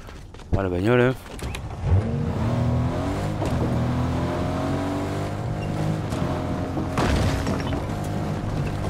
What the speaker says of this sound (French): La bagnole hein.